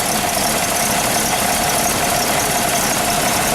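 A 1974 Toyota Land Cruiser FJ-40 engine runs at a steady idle, heard up close with the hood open as a constant, even mechanical drone without speech.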